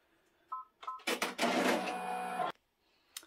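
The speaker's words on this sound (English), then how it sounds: "my machine's all ready to go, so I'm going to go ahead and let it, it's going to stitch out the outline or the placement stitch" An embroidery machine stitches a placement outline for applique: a few short mechanical beeps and whirs, then a dense, loud burst of rapid needle stitching lasting about a second and a half, stopping abruptly, followed by one brief tap.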